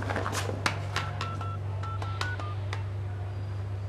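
Telephone keypad tones as a number is dialed, a quick run of short beeps in uneven rhythm over a steady low hum, fairly faint and close.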